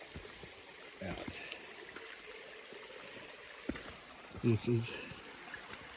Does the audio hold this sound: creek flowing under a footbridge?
yes